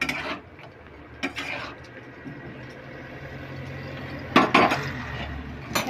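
A metal lid clatters onto a cooking pot, a few close clinks and a sharp rattling knock near the end as it settles, over a quiet kitchen background.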